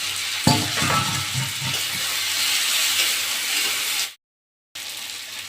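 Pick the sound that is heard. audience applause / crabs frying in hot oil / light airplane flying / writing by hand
crabs frying in hot oil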